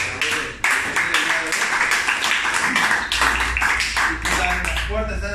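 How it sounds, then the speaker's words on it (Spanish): At an A.A. meeting in Cancún, an audience gives the sponsor a round of applause, sustained dense clapping with a voice speaking over it, fairly close and lively. "Yo les pido un aplauso para el padrino"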